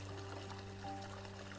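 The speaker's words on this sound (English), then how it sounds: "The soothing sound of running water." Soft, steady rush of a river's running water in a video game, faint and continuous with a low hum beneath, alone without voices.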